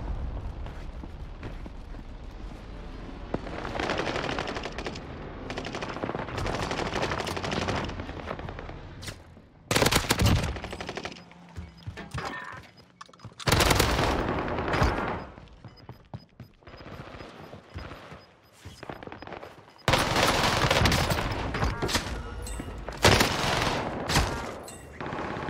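Grau assault rifle fire in the Rebirth Island battle royale game: loud, dense bursts of automatic shots arrive in several clusters, mixed with game noise and with no talk over them.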